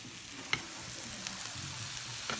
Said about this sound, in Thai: นี่ก็เจียวใส่ปลาทูเนาะ